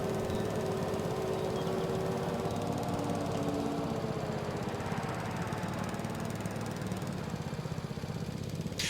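Steady engine drone of a lawn mower cutting grass in Farming Simulator 22, running continuously at close range with no talk over it.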